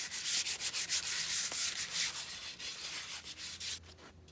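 A large carved wooden spoon is sanded by hand with 120 grit sandpaper, giving close, steady rhythmic rubbing strokes, about two per second, before the scraping fades out near the end.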